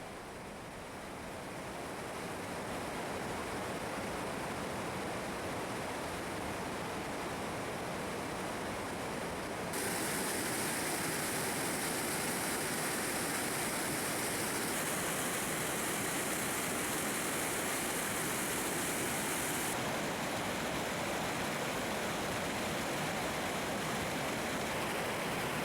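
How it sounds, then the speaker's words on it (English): The Redmire Force rapids rush loudly and steadily, a dense broadband roar of tumbling water heard close by with no pause. "I was more than happy just to stand here for a while and watch the rushing water"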